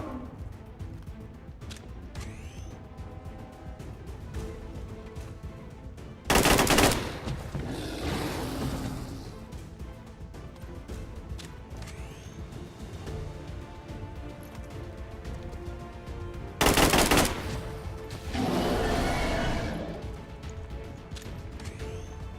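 Gunfire from resistance soldiers in the video game XCOM 2 comes as two loud bursts of shots roughly ten seconds apart, each followed by a noisy crash-like tail over steady game ambience.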